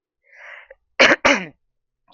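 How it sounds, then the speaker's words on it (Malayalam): Two sharp, harsh coughs from a person with a cold, in quick succession, close and loud, preceded by a soft breathy exhale and followed by a brief sound at the end. "അപ്പൊ ഈ ചുമ ഇടയിൽ ഒന്ന് വരുമായിരിക്കും"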